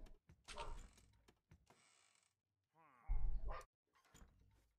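A dog barks indoors in a short series of sharp, fairly close barks and yips separated by quiet gaps, with a brief whine-like sound in between; no one speaks.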